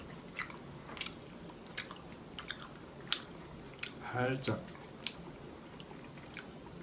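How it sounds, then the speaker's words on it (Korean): Close, wet chewing and biting of kimchi pancake in short irregular bursts, with a brief spoken word in the middle. "다음에는 김치전 한번 먹어볼게요"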